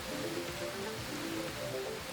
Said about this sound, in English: I hope opening this in the rain isn't going to be an issue.